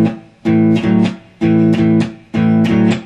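Guitar strumming in a blues shuffle, eight strums to the measure, comes as loud, slightly distorted chords in repeating long-short pairs, three bursts of paired strokes with brief gaps, no voices.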